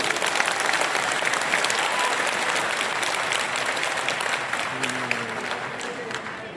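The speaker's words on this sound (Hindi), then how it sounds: "एक जोरदार ताली आप लोगों की तरफ पहुंच चाहिए" Dense, sustained applause from a large crowd at a Samrat Ashok birth-anniversary gathering in Patna, clapping loudly and evenly throughout before tapering slightly near the end.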